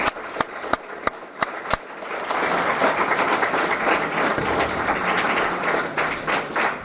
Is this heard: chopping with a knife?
no